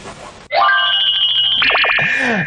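Telephone ringing loudly and close, an electronic warbling trill that starts abruptly after a moment of quiet room noise and continues with rapid repeating pulses.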